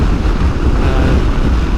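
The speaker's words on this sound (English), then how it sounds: "proper strong headwind" Strong headwind roaring over a motorcycle rider's closed helmet at about 50 mph on the north coast of Scotland between Thurso and Durness, a loud, steady low buffeting rush that fills the whole clip with no voice.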